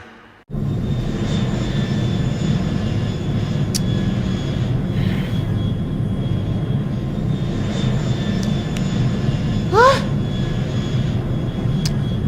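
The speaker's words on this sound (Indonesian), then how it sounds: "Ini suara mesin pesawat bu." A steady, loud drone of an airplane engine fills the passenger cabin, an even broadband roar with faint tonal whines and a few brief chimes or clicks over it.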